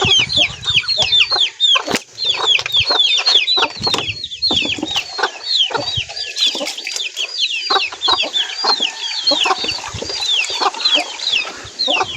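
A flock of chickens clucking busily and continuously, many overlapping calls close by, with occasional louder squawks and a faint crow.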